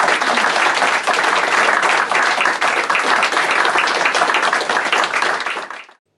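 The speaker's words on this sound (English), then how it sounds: "Let's give these ladies a round of applause." A live audience at a mediumship show gives a dense, loud round of applause that holds steady for several seconds and then cuts off abruptly.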